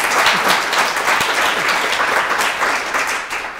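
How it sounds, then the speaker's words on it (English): A conference audience gives a sustained round of applause, a dense wash of many hands clapping at a steady, full level that tapers slightly at the end. "Let's give them a round of applause."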